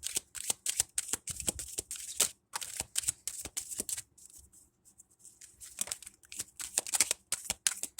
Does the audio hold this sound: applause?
no